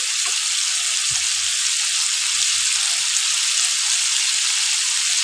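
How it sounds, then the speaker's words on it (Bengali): Cumin seeds sizzle loudly in hot oil in a pan as a tempering for a banana-flower and prawn curry, a steady bright hiss with a few faint low knocks and no speech. "এই তেলে আমি আরেকটু তেল দিয়ে এর একটু জিরা ফোড়ন দিয়ে দেবো"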